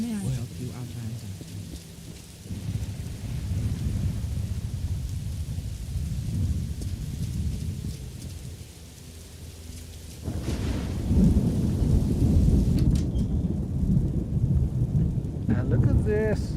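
Steady rain pours in a Morrowind game world, with thunder rolling in heavy surges that swell louder partway through, close and continuous with no voices.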